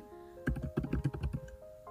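A search query tapped out on a computer keyboard, a quick close burst of about a dozen crisp keystrokes in an uneven rhythm, no talking.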